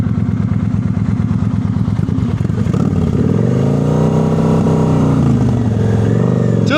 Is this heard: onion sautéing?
no